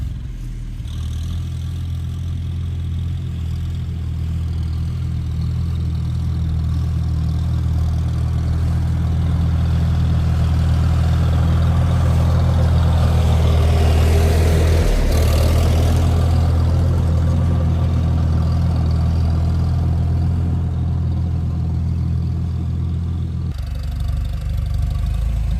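A newly bought farm machine's engine idles steadily and close by for about twenty-five seconds, a low even rumble with a brief rise near the middle, alone with no talking.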